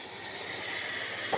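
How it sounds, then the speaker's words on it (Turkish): A steam iron held a few centimetres above a crochet shawl lets out a strong, continuous hiss of steam, close and even throughout, ending with a small knock. "ütüm yukarıda 5-10 santim yukarıda ve güçlü buhar veriyorum"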